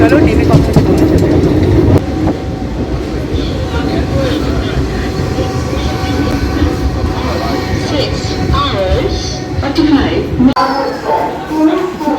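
An overnight train from Sealdah pulls into New Jalpaiguri station, its steady low rumble and rattle filling the platform while people talk nearby.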